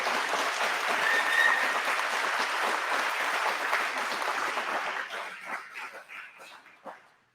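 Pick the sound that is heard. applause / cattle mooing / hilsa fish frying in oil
applause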